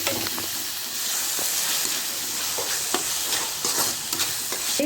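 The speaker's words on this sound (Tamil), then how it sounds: "நல்லா ஃபைனாக சாப் பண்ணி வச்சுருக்க தக்காளி" Finely chopped tomatoes sautéing for a prawn thokku gravy, a loud continuous sizzle with repeated spatula scrapes and stirring taps, no voices.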